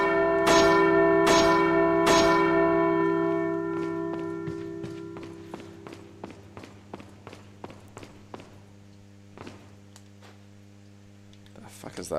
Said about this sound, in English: Bell's still there. Bells!